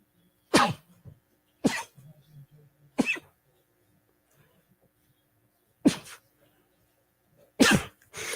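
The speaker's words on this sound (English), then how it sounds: "Hold on, I have to sneeze." A person sneezing in short, explosive bursts, five of them spaced a second or more apart, loud and close, with faint breathing between.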